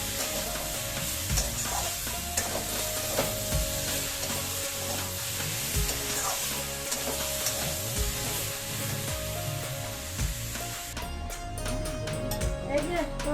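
A tomato goes into a curry sizzling in a pan, with continuous frying crackle, scattered stirring clatter and someone talking over the cooking.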